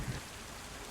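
Rain in DayZ heard from under a gazebo, a faint, even hiss of falling drops with no clear thunder.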